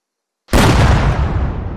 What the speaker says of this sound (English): Tank shot out.